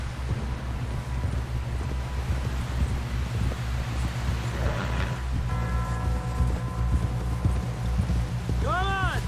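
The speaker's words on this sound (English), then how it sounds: "Someone help John down off this horse" Horse hooves clip-clop steadily in the Red Dead Redemption 2 western game, a rhythmic trotting patter under a low rumbling ambience, with a character speaking over it.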